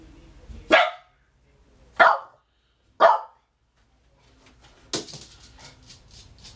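Three sharp, loud dog barks spaced about a second apart, followed by a quieter bark and some soft shuffling noise.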